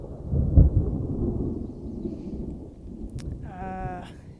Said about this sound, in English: the thunder is getting louder